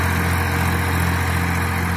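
A Massey Ferguson 1035 tractor pulling a 14-disc harrow runs steadily, a loud continuous diesel drone with a strong low hum and no talk.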